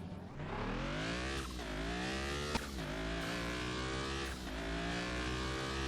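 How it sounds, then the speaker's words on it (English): A Land Rover Discovery engine strains up through its gears as it accelerates on a speed track, a loud, continuous rough drone climbing in pitch and dropping back between shifts. "That has an odd sound to the engine."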